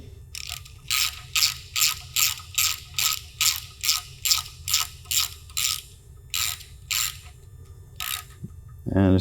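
A hand ratchet clicks in about fifteen evenly spaced, close bursts as a 10 mm bolt is threaded into an LS swap oil pan, the rhythm faltering briefly near the end.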